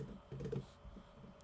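A few quiet clicks of keys on a computer keyboard, a brief, soft flurry of typing with no voice.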